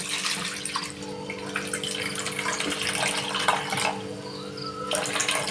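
Chhena, fresh cottage cheese for rasgulla, rinsed under cold running tap water, a steady close splashing stream with small drips and shifting flow.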